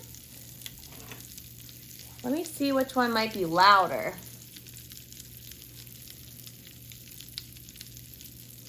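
A steady crackling fizz of Pop Rocks candy popping runs throughout, with a short stretch of talking over it in the middle.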